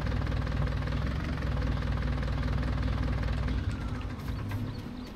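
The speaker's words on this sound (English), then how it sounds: "Gonna move these two loader tractors they have parked in the way here." A heavy diesel loader tractor engine in Farming Simulator 19 idles steadily with a low, knocking rumble, close and loud throughout, easing off slightly near the end.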